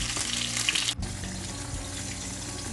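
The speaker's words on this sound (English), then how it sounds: "Okay, let me fry these up." Sea bream pan-fries in a spoonful of oil over medium-high heat with lemongrass, a dense close sizzle and hiss that breaks off briefly and then carries on steadily.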